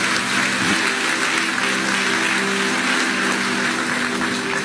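A church congregation claps and cheers during a French-language prayer service, a steady, loud wash of applause with a faint sustained musical tone underneath and no pauses.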